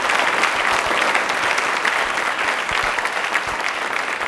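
Loud, dense audience applause at a Hindi fortnight question-and-answer event, a continuous roar of many hands clapping together at an even level throughout.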